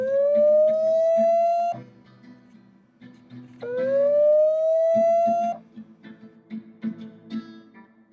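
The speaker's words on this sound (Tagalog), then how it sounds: "manually blast an alarm using the app and the speaker will output this kind of sound" Alarm tone from the speaker of an ANNKE Crater 2 smart camera: two loud rising siren-like whoops, each about two seconds long, with a steady buzzing pattern between and after them.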